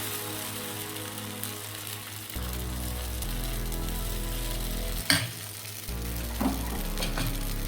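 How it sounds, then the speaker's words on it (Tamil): Potato dosa batter sizzles and fries on a hot pan, a continuous close crackling hiss with a brief clatter of utensil contact partway through and no voices. "இப்போ தோசை சுடுறதுக்கு மாவு ஆட் பண்ணிக்கோங்க."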